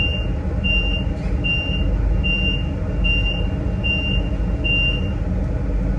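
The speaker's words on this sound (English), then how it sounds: "Should an incident be detected in your carriage, the following alarm will sound." An incident alarm sounds aboard a Le Shuttle train carriage, a regular series of about seven short, high, evenly spaced beeps over a steady low rumble of the moving train.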